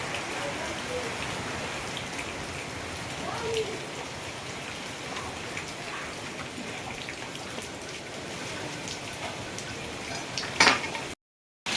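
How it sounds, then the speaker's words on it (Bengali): Heavy rain from a cyclone falls steadily on surfaces, a dense, continuous patter close by, with faint clinks of kitchen dishes underneath and a brief louder clatter near the end. "বৃষ্টি থামার কোনো নামই নাই আর তো বৃষ্টি খালি বাড়তে আসছে বাড়তে আসছে"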